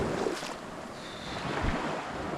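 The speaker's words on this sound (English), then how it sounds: "We're just going to go for a tender ride to the back of the island." A yacht's tender dinghy runs across a lagoon toward a back creek, with a steady rushing wash of water and wind buffeting the microphone, no talk.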